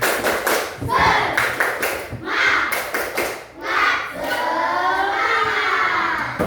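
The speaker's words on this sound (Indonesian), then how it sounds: "Sekali lagi ya, tepuk semangat." Rhythmic group clapping from a primary-school class doing a spirit clap chant during a lesson on fractions, with children's voices mixed in, loud and close, in bursts of patterned claps.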